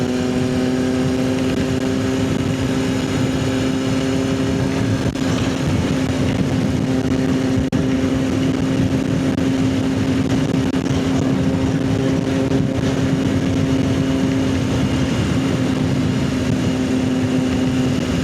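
A motorcycle with a dry clutch runs steadily on a road for the whole stretch. Its engine drone is loud and close, with a constant hum and rough rumble and no speech.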